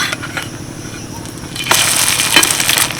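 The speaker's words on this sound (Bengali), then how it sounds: "পরোটাটা ভাজার সময় আঁচটাকে কিন্তু মিডিয়ামই রেখেছি খুব হাই ফ্লেমে ভাজবো না" An egg paratha fries in a pan over a medium flame with a steady close sizzle that swells louder and brighter partway through, as if flipped or pressed, while a voice talks faintly underneath.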